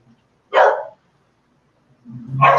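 A house dog barks twice, loud and close, each bark well apart with silence between, and a brief low rumble under the second.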